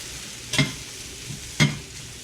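Mushrooms in butter in a Lodge cast iron skillet at a camp cook, a low steady sizzle broken by two short scraping stirs about a second apart, close and fairly loud.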